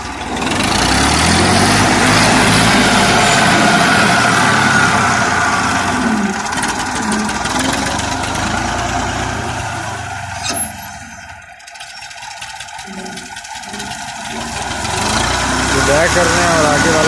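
A 1986 Massey Ferguson 240 tractor idles in a steady, throbbing diesel rumble close by, dipping briefly in the middle before picking up again, while people talk nearby.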